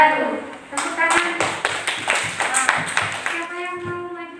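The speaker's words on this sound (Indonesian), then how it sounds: "Tepuk tangan." Students in a classroom clap together after a greeting, a short burst of brisk claps mixed with voices, fading into speech.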